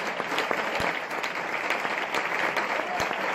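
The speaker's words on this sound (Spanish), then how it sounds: "Dale un aplauso a Dios por su sangre." A church congregation breaks into sustained applause during a sermon, dense even clapping with a few sharper individual claps standing out, filling the room at moderate volume.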